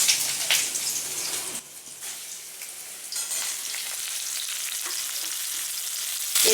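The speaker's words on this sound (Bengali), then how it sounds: "এবার আমি এঁচোড়গুলো ঢেলে দেব" Raw jackfruit pieces frying in hot oil tempered with nigella seeds, a close, steady sizzle and crackle with a few brief dips and scraping stirs along the way.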